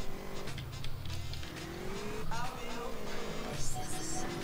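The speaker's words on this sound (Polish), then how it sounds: "No, to tylko zwykły samochód." Ordinary car driving in Grand Theft Auto: San Andreas, a steady engine drone rising and falling with gear changes, moderately loud under someone talking.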